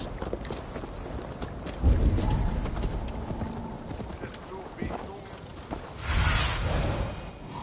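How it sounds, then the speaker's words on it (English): Horse hooves clatter in Assassin's Creed Valhalla, a loose horse running past with uneven clip-clop thuds and a couple of heavier bursts, while game characters talk over the action. "Stop that horse!"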